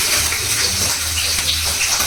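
Hot water pours for making soup, a steady rushing splash close and fairly loud, continuous with no talk.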